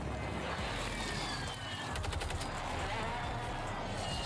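Gunfire crackles in Call of Duty Warzone on Rebirth Island: quiet, dense bursts of automatic shots set in a washy game soundscape, faint and continuous throughout.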